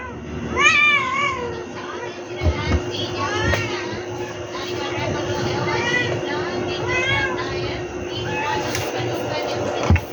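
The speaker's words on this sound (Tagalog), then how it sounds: "Naglalaro ang mga pusa." Cats play around the home, meowing repeatedly in short rising calls over a busy background of household noise and a steady hum, while people talk and a voice is heard at times.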